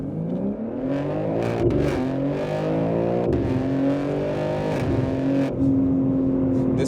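A BMW M3 G80 sports car with an OPF-delete H-pipe or X-pipe exhaust drones close by, the engine note climbing and dropping as the revs change, continuous throughout with no voices.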